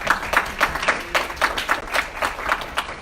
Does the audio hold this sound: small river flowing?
no